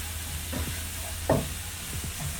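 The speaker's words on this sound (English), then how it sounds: "So we are just going to sweat this onion down." Chopped onion sweating down in a frying pan with oil for rosemary roasted potatoes, a low steady sizzle with a few soft scrapes and stirs, fairly quiet and with no voices.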